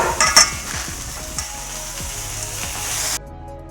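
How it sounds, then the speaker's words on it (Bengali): Washed spinach drops into a pan of fried vegetables with a loud close burst of sizzling and clattering stirs, then settles into a steady crackling fry before stopping suddenly. "এবার পালং শাকটা দিয়ে দিচ্ছি।"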